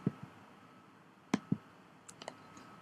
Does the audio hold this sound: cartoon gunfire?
no